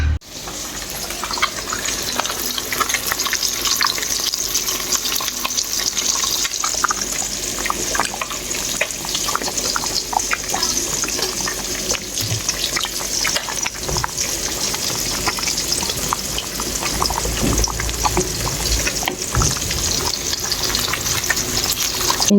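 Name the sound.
frying fish in a pan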